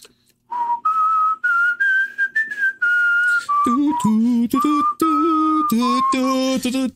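A clear, close melodic whistle carries the slow, lilting folk tune Greensleeves, note after note, joined partway through by a lower accompanying line.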